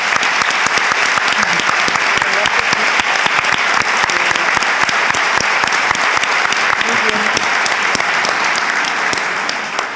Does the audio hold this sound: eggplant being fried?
no